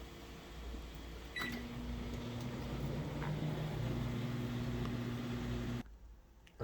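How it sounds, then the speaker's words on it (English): A microwave oven runs with a steady low hum and faint whir, carrying a couple of quiet clicks, then cuts off abruptly near the end, leaving a soft room tone. "You're gonna microwave for 1 minute."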